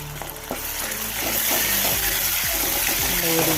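Onion frying in a pan with ginger-garlic paste added for a Kerala bottle gourd dal curry, giving a steady close sizzle with scattered stirring clinks and scrapes throughout.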